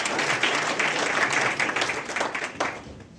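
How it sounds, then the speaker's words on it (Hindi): An audience at a book launch event in Chhindwara breaks into loud, sustained applause of many hands clapping together, which fades slightly toward the end. "तालियों की आवाज से"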